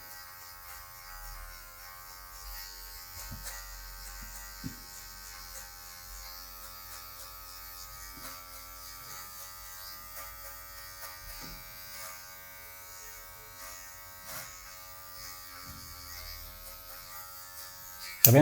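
Electric hair clippers fitted with a 1.5 guard cutting afro hair, a steady close buzz running throughout with small shifts in tone as the blade moves through the hair, no talking.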